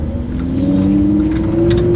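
A Lamborghini Huracan accelerating on an uneven country road, its engine note rising steadily in pitch, loud and close throughout.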